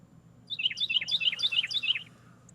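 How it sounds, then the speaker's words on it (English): Birds chirp and tweet outdoors on an early spring morning at dawn, a quick run of bright repeated calls of moderate loudness for about a second and a half over a low steady background hum. "Listening to the birds on a Saturday morning."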